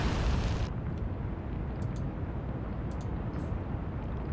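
Deep, sustained rumbling boom from a naval shell impact in the naval combat game Atlantic Fleet, Bismarck battling Hood at the Denmark Strait, loud and rolling with no pause throughout.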